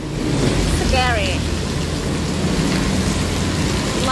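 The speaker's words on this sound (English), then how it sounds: "I hope it stops raining." Steady heavy rain pours throughout in Bangkok, with low rumbling thunder underneath and a brief bird call near the start.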